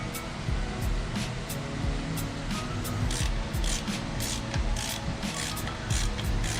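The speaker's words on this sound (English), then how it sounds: "just grab a microfiber and get it all cleaned off" A microfiber cloth rubbing corrosion off a transmission drain plug on a GR86/BRZ, close continuous scrubbing and rasping strokes in a quick irregular rhythm, no talking.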